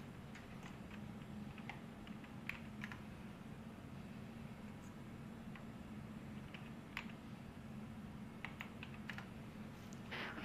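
Someone types quietly on a computer keyboard at a flight-simulation desk, irregular light clicks and taps under a steady low hum. The sound is faint and close, with no voices.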